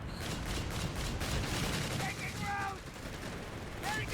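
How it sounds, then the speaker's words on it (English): Bursts of .50 cal machine gun fire and gunfire rattle in Company of Heroes 3 alongside AA gun fire, a dense continuous fusillade that runs under a commentator's voice. "AA gun team blasting this house. .50 cal machine guns from our US player on the field now"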